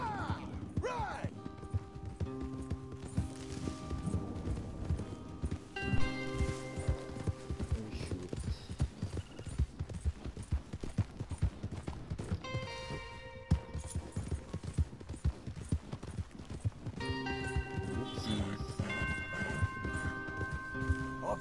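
Horse hooves clip-clop and pound in a rapid, driving rhythm as a group of horses gallops in Red Dead Redemption 2, mixed with creaks, tonal music and occasional voices, loud and continuous throughout.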